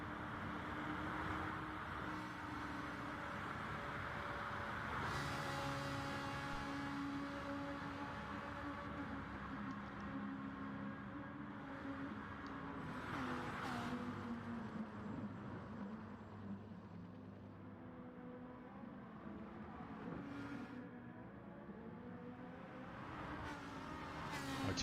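Racing cars on a straight in a Gran Turismo GR.4 championship race, a steady droning engine roar with shifting pitch as cars run flat out, plus a few brief passing whooshes.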